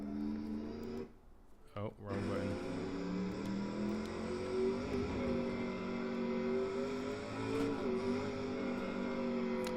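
A Sauber-Mercedes C9 race car in a video game cruises at Nordschleife with a steady, droning engine tone that briefly drops out and returns, while someone talks over it.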